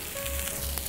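Potatoes sizzle and crackle steadily as they fry in a pan, a dense close hiss with no voices over it.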